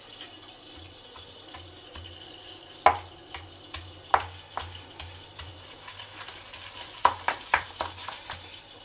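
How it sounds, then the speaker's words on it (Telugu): Tomatoes frying in a pan for a village-style onion tomato pachadi give a steady sizzle and hiss, broken by scattered taps and scrapes of stirring, near and without talk. "అక్కడ టమాటాలు ఉడుకుతున్నాయి, ఇదైతే వేస్తున్నా."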